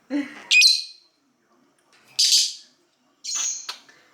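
A pet bird gives three sharp, bright calls separated by short pauses, close and fairly loud with no talking.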